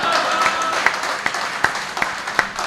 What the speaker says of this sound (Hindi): तालियां तो इस बात पे बजाना कि वो दोनों बालक जसप्रीत और ब्रह्मज्योत